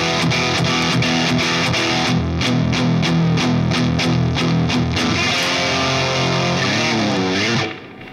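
Single-coil electric guitar played clean with a RAT distortion simulation switched off, strummed chords ringing steadily and fairly loud, ending in a bend before fading.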